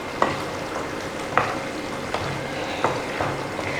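Small pieces of a large tomato frying in a pan, a constant close sizzle with a few sharp stirring knocks spaced about a second apart, no voices.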